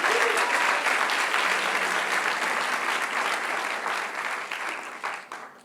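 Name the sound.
church congregation applauding Jesus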